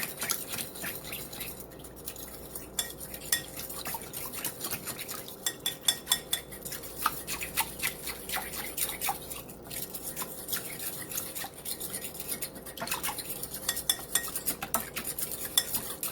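Honey stirred into a pork chop mixture, soft wet sticky stirring with light utensil clicks against the bowl, close and fairly quiet, continuing steadily without talk.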